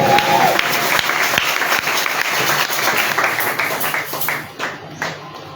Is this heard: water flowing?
no